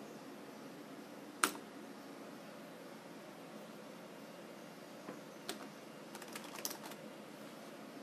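Keys clack on the keypad of a Videonics TM 3000 character generator, with one sharp press followed later by a short cluster of light taps over a steady background hiss.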